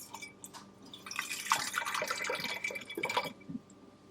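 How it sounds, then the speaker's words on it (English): Half a cup of grape juice pours into a funnel, a short quiet trickle and splash of liquid lasting a few seconds, with small drips at the start and end, nearby and faint. "add my half a cup of grape juice to my funnel."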